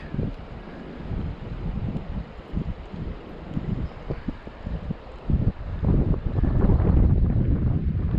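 Wind gusting beside a river while fishing, a rough, blustery rumble against the microphone that swells and fades, growing stronger and more sustained toward the end, with no voices.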